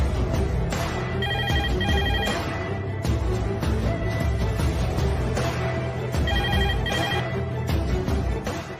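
A telephone rings repeatedly in bursts of electronic trilling as a call is placed, each ring pattern repeating over a busy, loud background.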